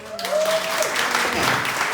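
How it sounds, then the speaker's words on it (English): A comedy show audience breaks into applause, a thick burst of clapping from the crowd that stays full for two seconds, with a voice briefly audible at the start. "By a round of applause."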